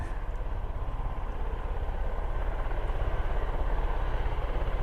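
Drone rotors spinning up near RAF Mildenhall, a steady loud broadband whir and rumble that holds and slightly builds throughout, with no speech over it.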